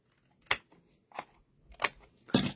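Scissors snip through paper to trim a card project in four separate crisp cuts, spaced unevenly and fairly close, with quiet pauses between them.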